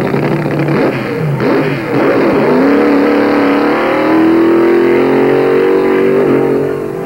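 A 1965 NHRA drag racing car engine revs and accelerates, a loud sustained roar rising in pitch with a steady whine, close and continuous, no talk over it.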